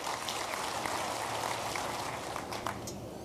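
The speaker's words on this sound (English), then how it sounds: "So we need to clap for them for making my books available." Audience applause at an ICPAK Kenya event, greeting a publisher's CEO: steady, dense clapping from a large crowd that runs unbroken and fairly loud from start to end.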